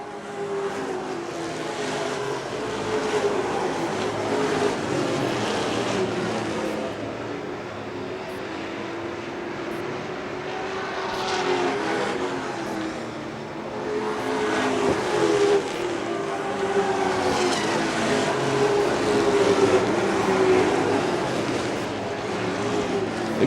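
Late model stock cars roar around the track side by side in a loud, continuous engine drone that swells and fades as the pack passes, with no talk over it.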